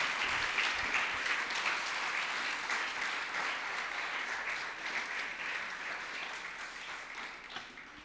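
A church congregation applauds in a steady, dense wash of clapping that holds evenly at moderate distance for several seconds, fading slightly toward the end with no voices over it.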